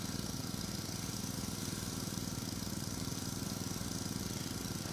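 A tractor engine idles in the farming video game Farming Simulator 17 with a steady mid-pitched mechanical drone and a fine rhythmic chug. It runs constant and even throughout, alone and at moderate volume.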